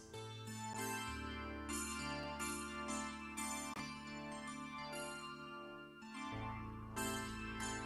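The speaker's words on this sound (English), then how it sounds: "So this is basically an Alpha Juno you're hearing." A Roland Alpha Juno synthesizer in its rack-mounted MKS50 form plays quiet sustained chords that shift every second or two, a soft steady wash of layered tones with no voices.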